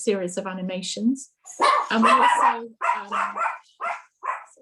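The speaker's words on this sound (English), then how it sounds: "that's my dog in the background" A pet dog barks and yips in the background of an online panel session, sharp repeated bursts mixed in with a person speaking over them.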